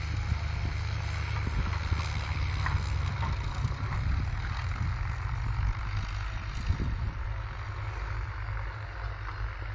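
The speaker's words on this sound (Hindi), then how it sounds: "ये देखिए, एक रेस जैसा कंपटीशन चल रहा है कि कौन सा ट्रैक्टर फसलों को नष्ट करते हुए जल्दी पहले उस पार पहुंचेगा खेत के।" Tractors race across a flooded farm field flattening crops, a heavy continuous engine rumble with low droning tones and scattered clanks, loud and close throughout.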